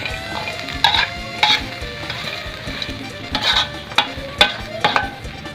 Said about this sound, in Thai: เจียวใส่กระเทียม